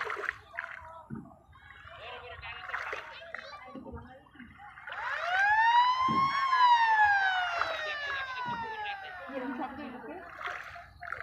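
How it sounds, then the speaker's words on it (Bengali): A boat whistle sounds on a river trip, a rising-then-falling tonal blast lasting a few seconds amid voices of children and adults talking excitedly nearby. "হুইসেল দিল, হুইসেল।"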